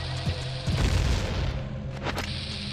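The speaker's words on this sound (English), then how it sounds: "Probably want to bomb this wall." A bomb blows open a wall in the Zelda Ocarina of Time video game, a single deep boom with a rumbling burst near the start, then a short game jingle over a low background hum.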